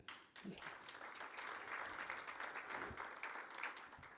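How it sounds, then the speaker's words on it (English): Audience applause at an organisation's rebranding and website launch event, a steady wash of many hands clapping throughout, moderately loud and sustained without talk. "I think we deserve a clap"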